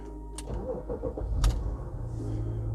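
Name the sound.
car engine starting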